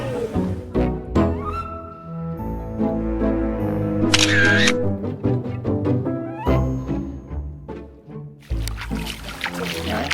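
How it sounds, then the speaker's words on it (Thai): Camera shutter firing at a slow shutter speed in an ancient melaleuca forest at a botanical garden in Rayong, with soft clicks set against continuous background music. "เราลองกดชัตเตอร์ดูครับว่า สปีดต่ำขนาดนี้"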